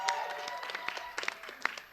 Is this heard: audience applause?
yes